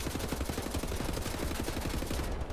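Enemy gunfire in the video game Wolfenstein: The New Order, a dense, continuous rattle of automatic shots at steady loud volume throughout the short stretch.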